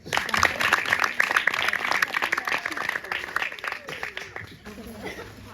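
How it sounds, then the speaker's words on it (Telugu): A church congregation claps together at a Christmas gathering, a busy wash of many hands that gradually thins out, with voices talking underneath. "అందరూ చప్పట్లు కొట్టు."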